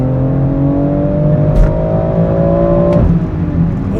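A BMW X3 M SUV in Sport Plus mode accelerates hard, its engine and exhaust rising steadily in pitch through a gear, loud and close from inside, with a brief shift break near the end.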